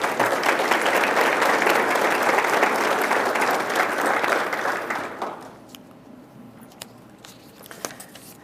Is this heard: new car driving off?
no